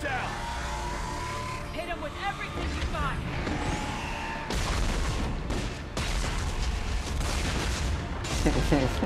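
Weapons firing in the video game Mass Effect 3: loud booming artillery-like blasts and rapid gunfire bursts over a dense game soundtrack, with speech-like voices mixed in.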